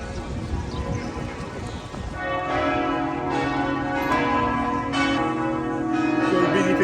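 A church bell in Quebec City rings with resonant, sustained tolling that swells after a couple of seconds and lingers over background street noise.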